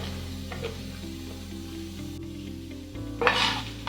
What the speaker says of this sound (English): Now we're going to wait for the mushrooms to cook a little while before we put the green onions in